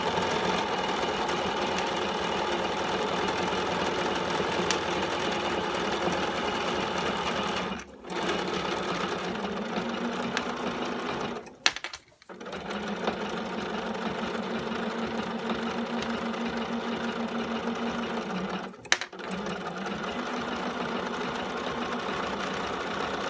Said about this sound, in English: So this is a 9mm sewing machine